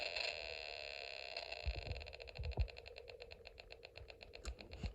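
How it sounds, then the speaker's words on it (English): A buzzing electronic tone from a Snap Circuits Extreme SC-750 kit on its lowest setting, with a steady pulsing rhythm like a low idling engine and some low thumps underneath. "this is the lowest setting, which may remind you of the sound of an idling engine"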